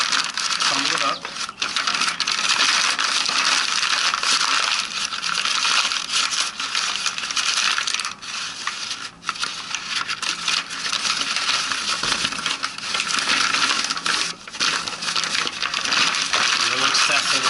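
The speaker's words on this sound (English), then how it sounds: "take the paper bag and crumble it up" A paper bag is crumpled up by hand to make a homemade sandbag, giving a loud, steady crinkling and crushing that runs close and continuous throughout, with brief dips in intensity.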